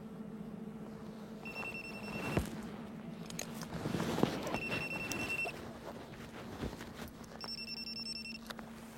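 Telephone rings in repeated electronic bursts with pauses between them, clear and moderately near inside a room, with a few knocks and bumps of movement.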